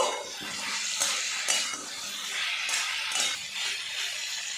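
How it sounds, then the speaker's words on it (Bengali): Papaya and chana dal curry being stirred in a pot, with repeated scraping and clinks of a utensil against metal, steady and close, a soft sizzle underneath and no voices. "ঢাকনাটা খুলে নেব, বেশ কিছুক্ষণ নাড়াচাড়া করে নেব।"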